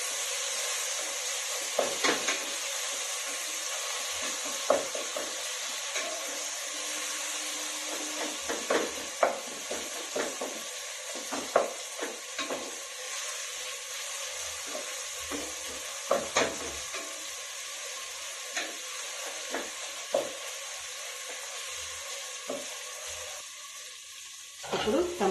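Tomatoes being stirred and pressed in a pan while cooking a Nellore tuna fish curry: a soft, steady sizzle runs throughout, broken by scattered spoon scrapes and knocks against the pan, with no voices.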